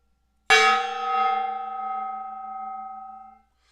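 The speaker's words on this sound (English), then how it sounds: "So it's gong time." A single gong strike rings out loud and clear, its metallic tone sustaining and slowly fading over about three seconds.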